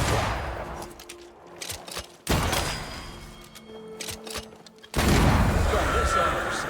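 Gunfire in the action game Banishers: Ghosts of New Eden, heavy booming shots and bursts arriving in separate waves between quieter passages, with a voice speaking in the gaps.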